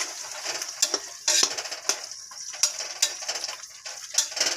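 A ground masala mixture is stirred into cauliflower pieces in a pan, with a soft constant frying hiss and regular scraping strokes of a spoon coming close and loud, and no one talking.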